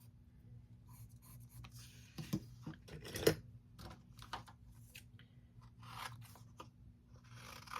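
Scissors cut paper to size for an art journal page, close and quiet, with a series of soft snips and crisp crunches spread irregularly over several seconds against a low hum.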